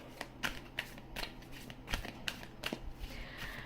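Tarot cards are shuffled by hand in a series of soft, irregular riffles and slaps, close and fairly quiet, with scattered sharp card snaps across a few seconds.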